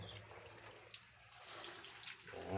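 Faint running water splashes and trickles as food is rinsed during cooking, quiet and steady with a slightly louder gush at the end.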